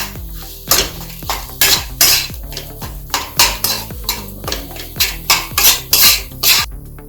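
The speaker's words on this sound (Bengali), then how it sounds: "গ্যাসের আঁচটা লো রেখে এটাকে একটু ভেজে নিতে হবে।" Ground lentil paste fries in a pan on low heat while a metal utensil repeatedly scrapes and clanks against the pan in a steady rhythm, close and clear over a faint sizzle.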